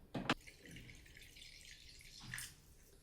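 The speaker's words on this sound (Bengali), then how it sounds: "এবার সসে পরিমাণ মতো একটু জল দিয়ে দেবো।" Water being added to chicken sauce for Drums of Heaven: a short splashy pour near the start, then a soft low trickle and bubbling, with a faint sizzle near the end, all quiet.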